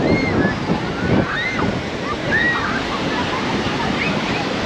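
Strong sea waves surging at Manora Beach, Karachi, with lifeguards on duty: a steady roar of broken surf and churning water, with faint calls and voices over the top.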